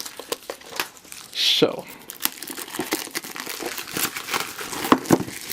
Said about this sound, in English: it actually peels off pretty easily.